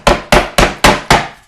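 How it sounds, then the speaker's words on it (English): A finish hammer drives a plastic anchor into drywall with five sharp, evenly spaced strikes, each a loud close thwack that decays quickly. "you can pound it in with a finish hammer"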